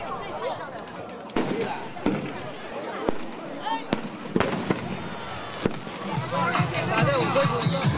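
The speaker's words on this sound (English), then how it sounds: "judging by the array of fireworks being set off on the banks of the Heilongjiang" Fireworks go off on the banks of the Heilongjiang River in Beiji Village, China, sending sharp bangs and crackles at irregular intervals over a murmuring crowd, with people talking nearby.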